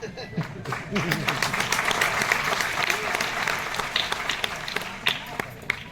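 Dense audience clapping at a Hindi poetry gathering, steady and fairly loud, with voices murmuring and speaking over it.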